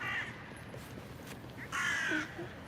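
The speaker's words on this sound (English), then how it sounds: "the crows are everywhere in Ljubljana." Crows caw in Ljubljana's city center, one harsh call near the start and a louder, longer caw a little later, over outdoor street ambience.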